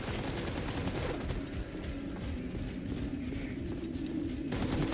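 Dense, continuous gunfire from the Warhammer 40k: Darktide video game, a steady roaring barrage with mechanical clatter that holds loud and unbroken for several seconds, with no talk over it.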